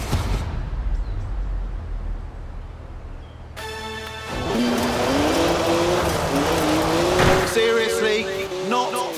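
A BMW 1M in Forza Horizon 4: after a quiet stretch the engine cuts in loud and close and revs up in rising tones as the car accelerates, with a brief squeal of tires.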